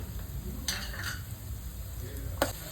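Peanuts frying in oil in a pan, a soft steady sizzle with a few sharp scrapes of a spoon stirring against the pan, close and alone.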